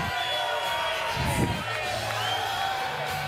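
A boxing crowd cheers and whoops around a fighter as he is mobbed from behind, a dense close hubbub with a brief louder swell midway.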